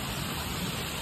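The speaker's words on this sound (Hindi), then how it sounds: "देखो जी बारिश कितनी तेज हो रही है" Heavy rain pouring down steadily in a village, with drains overflowing, a dense continuous hiss of water close by with no voices.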